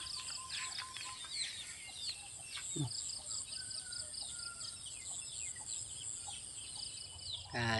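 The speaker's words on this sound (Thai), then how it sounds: "สิได้ยินแต่เสียงนกเสียงเป็ดเสียงไก่" Village morning outdoors with birds chirping and calling steadily in the background, while chickens and ducks cluck and call faintly now and then; one brief low call stands out midway.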